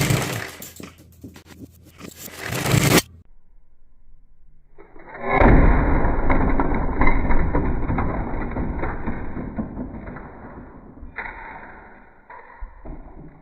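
A LEGO Marvel 2023 mech set drops and crashes apart, with a sharp loud impact followed by a burst of clattering plastic pieces scattering and settling over several seconds.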